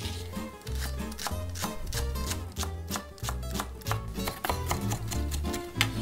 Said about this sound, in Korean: 파도 잘게 다져 넣겠습니다.